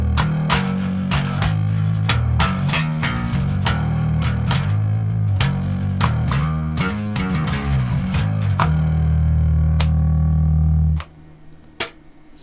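A crunchy, mildly distorted electric guitar through a low-gain distortion pedal plays rhythmic chords and riffs, ending on a sustained ringing chord that cuts off abruptly.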